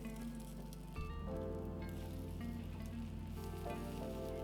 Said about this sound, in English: We are going to pan fry our potato balls, so make sure the base of the pan is well coated with oil